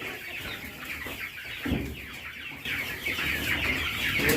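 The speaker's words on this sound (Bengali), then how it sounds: "তো আসুন আমি এখন আপনাদের টাইগার মুরগি দেখাবো।" Tiger breed chickens clucking at a small poultry farm, several birds making repeated overlapping clucks and short calls, close by over a steady barn background, with no speech.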